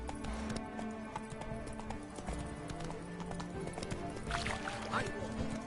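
Geralt's horse in The Witcher 3: Hearts of Stone gallops with a steady rhythmic clip-clop of hooves, moderately loud, under game sounds and a voice.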